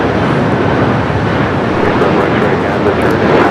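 A Delta Boeing 767-400ER airliner at Los Angeles LAX airport makes a broad, steady jet roar, loud and continuous, like engine rumble mixed with wind-like rushing noise.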